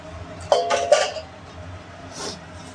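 A pressure cooker opened after mutton curry cooking, with two quick metallic clinks of lid against pot close by, then a softer scrape and rustle of handling.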